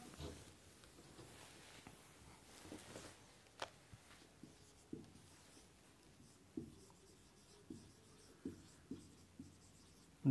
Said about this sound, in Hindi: अब करते हैं हम लोग सेकंड पॉइंट लिखते हैं सेकंड पॉइंट लिखते हैं इसका